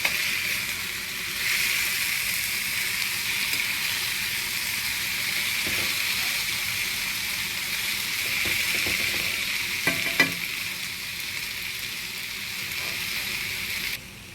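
Tomatoes and onion sautéing in a pan for a shrimp gravy, a steady close sizzling hiss throughout with a few scraping stirs of the spoon partway through, no voices.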